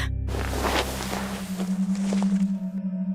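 Heavy thudding footsteps on a roof overhead, a sound effect in a spooky narration, a few dull steps over a steady low hum with no talk.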